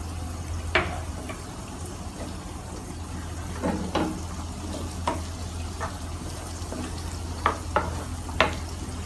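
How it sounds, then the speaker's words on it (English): Chopped garlic and onion frying in butter for chicken with black pepper sauce, a low steady sizzle beneath repeated spatula clacks and scrapes that come at irregular intervals against the pan. "I am going to add this in and I am going to cook this until the onions are caramelized."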